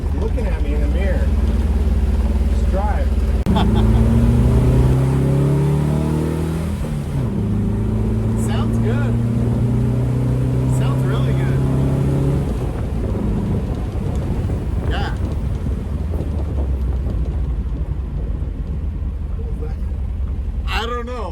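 A 1973 VW Thing with a newly installed engine driving, a steady low engine drone with rising and falling tones as it shifts and accelerates, heard from inside while people talk over it.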